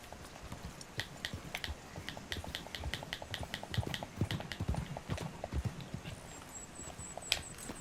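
A horse's hooves in Red Dead Redemption 2 clip-clop at a steady trot, crisp evenly spaced clacks over a soft background, with a faint high whistle near the end.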